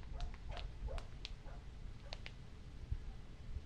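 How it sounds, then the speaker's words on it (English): A dog barks a few times faintly in the distance, short yips scattered over a quiet, low background hum. "I have a dog barking outside."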